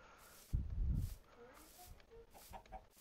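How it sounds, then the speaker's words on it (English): A Minecraft chicken lets out short, soft clucks in a quick sequence, with a low thump or footstep near the start and faint background noise from the game. "You keep clucking, little chicken, and I'm going to cook you."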